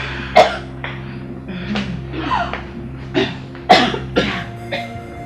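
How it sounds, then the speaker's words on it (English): Several harsh coughs burst out in irregular fits, loud and close, with throaty gasps between them and no talking. "I think she has cough."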